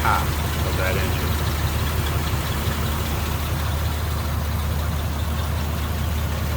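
A 1939 LaSalle five-passenger four-door sedan's engine idles steadily up close with the microphone over the engine bay, giving a low, even rumble that runs throughout.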